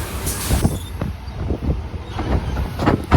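A MEMU train on the Borivali to Gholvad line pulls away from Vangaon station, heard from inside the carriage as a loud rumbling roar with rhythmic wheel clatter and faint squeals.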